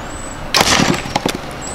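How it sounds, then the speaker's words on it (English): An arrow strikes a target and its nock or insert breaks, a sharp close crack followed by a couple of quick rattling knocks, with no voices. "Oh, broke my insert, or broke my knock."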